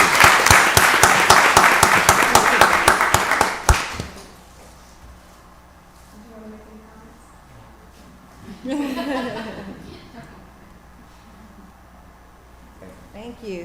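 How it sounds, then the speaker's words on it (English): Audience at a Rockdale County board of commissioners meeting breaks into dense, loud applause for about four seconds, then it stops sharply and a quieter room follows with brief murmured talk. "Another round of applause."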